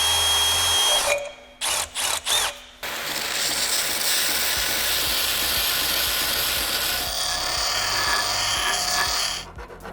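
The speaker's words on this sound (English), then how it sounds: "But for now, I need to drill all these tabs out." Power drill cutting out the holding tabs on an aluminum part cut by a cheap CNC machine, a loud continuous whine with a few brief stop-start bursts early on, then steady drilling to the end.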